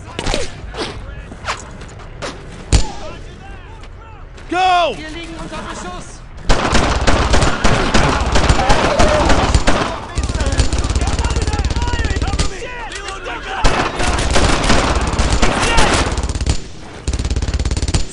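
Rapid MG42 machine gun bursts in the World War II shooter Brothers in Arms: Earned in Blood, loud and dense, mixed with other gunfire and battle noise, with shouted voices over much of the clip.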